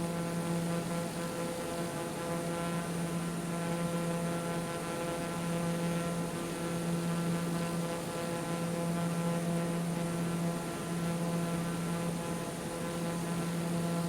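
A small, costly propeller airplane in flight gives off a steady, droning engine hum that holds an unbroken pitch from start to finish, loud and close, with no voices.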